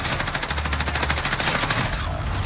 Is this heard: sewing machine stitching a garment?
no